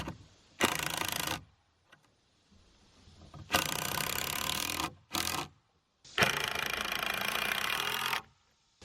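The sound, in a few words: driving 3.5-inch Torx head screws into stud board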